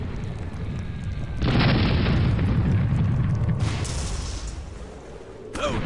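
Cannon fire aboard an airship in the Air Buccaneers video game: a heavy, booming blast with a long rumbling tail, followed later by further loud explosive hits.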